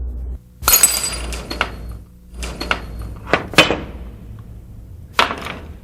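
A glass cup shattering during a materials demonstration: several sharp, loud crashes and tinkling fragments in separate bursts over a few seconds, with quiet gaps between them.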